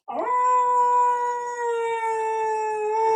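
A dog lets out one sustained, steady howl, close and fairly loud, with a clear wavering pitch held for three seconds without a break.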